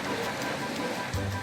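Rain patters steadily over a muddy house-building site, a soft, even wash of drops, with a low rumble joining near the end.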